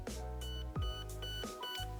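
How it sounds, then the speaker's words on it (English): An airsoft gun, an R15 Skeleton FREYA Grand Power, emits a rapid string of clear high electronic beeps in programming mode, several evenly spaced tones sounding close over a low steady hum. "we want to hear two beeps. Now we hear 3 of them"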